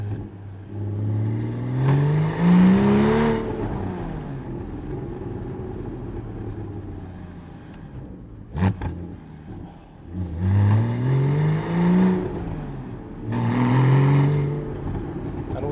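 A Porsche 981 Cayman S with a 3.4 engine and manual gearbox revs up in several rising and falling pulls, with a sharp auto-blip spike between them, loud and close.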